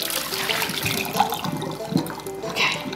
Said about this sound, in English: now I'm gonna pour out my boiling water